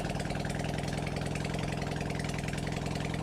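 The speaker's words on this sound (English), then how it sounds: "But the bike did go through all the gears." A Kawasaki Zephyr 750 motorcycle, newly fitted with carbs and exhaust, runs steadily at close range, its even mid-pitched engine drone holding constant without talk.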